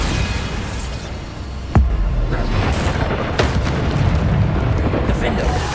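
A Bombarda spell explosion in the video game Hogwarts Legacy lands as one sharp, loud boom, followed by rumbling bursts and softer impacts amid continuous game noise, with a voice speaking over it.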